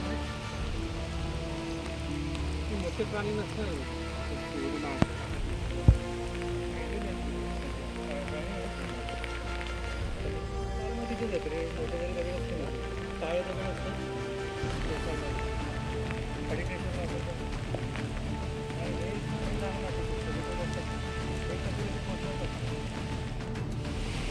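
Steady monsoon rain patters on surfaces at a hill fort entrance throughout, with a couple of sharp knocks early on and voices talking under the rain.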